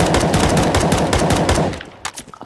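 Counter Strike 2 gunfire rattles out as a loud, rapid automatic burst of shots lasting under two seconds, then stops abruptly, followed by a few scattered clicks and thuds.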